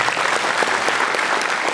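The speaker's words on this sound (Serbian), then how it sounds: "Mislim da ova pjesma zaslužuje jedan aplauz." An audience at a Statehood Day ceremony in Janja applauds a song, loud, dense clapping from a sizeable crowd that holds steady from start to finish.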